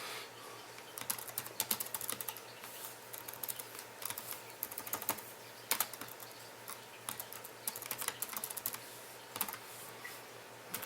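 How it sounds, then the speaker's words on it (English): Fingers type on a computer keyboard in quick, irregular bursts of clicking keystrokes, close and clear, with short pauses between runs and no voices. "Occurs to me the sound of my keyboard's coming through"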